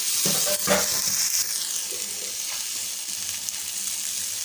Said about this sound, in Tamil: வெங்காயம் தக்காளி நல்லா வதங்கணும்